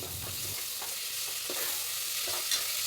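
Onions and ginger-garlic paste sizzle steadily in a pan while a spoon stirs them, with soft scraping strokes recurring over the constant frying hiss, for mutton biryani cooked at home.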